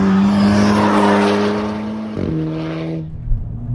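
Volkswagen Golf R engine with a six-speed dual-clutch gearbox, heard as a loud, close, sustained rev. It drops sharply mid-clip as a gear change or downshift takes hold, then settles to a lower, fading drone.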